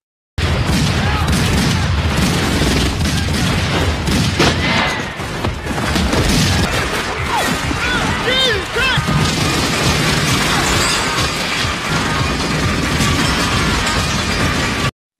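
Gunfight from the film The Crow: dense layered action-movie mix of booms, crashes and bursts of gunfire over a score, loud and continuous throughout with no clear pauses.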